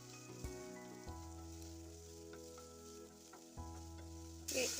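Onions, green chillies and curry leaves sizzle softly in a pan, with a spoon scraping and stirring in a few separate strokes over a quiet, steady fry and a brief louder clatter at the end.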